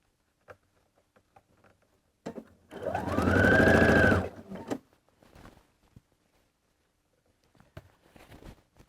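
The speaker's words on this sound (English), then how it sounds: "And your shirt's going to get all twisted around sewing in the round like this" A sewing machine runs in one sustained burst of about two seconds as a shirt sleeve is stitched in the round, with faint handling clicks and fabric rustles before and after.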